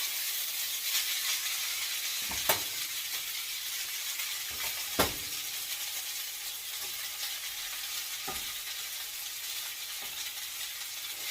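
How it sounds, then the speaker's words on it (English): Beef, vegetables and lo mein ingredients stir-fry in a wok, a constant loud sizzle and hiss with several sharp scrapes and clacks of a spatula stirring the food. "Then you can add your meat and your vegetables back in."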